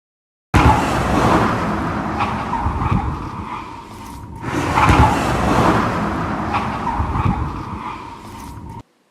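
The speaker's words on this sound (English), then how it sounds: "You can hear her tires screeching in this clip" Car tires screech loudly in two long sustained squeals, the second following a brief dip, with a steady high whine over engine rumble and no talking.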